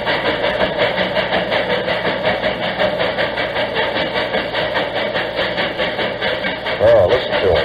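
Steam locomotive recorded running up a grade, a dense, steady mechanical roar with a faint rhythmic chuff pattern throughout, loud and continuous, with a brief louder swell near the end.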